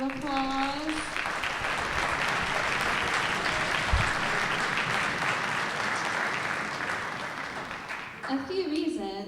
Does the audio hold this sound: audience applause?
yes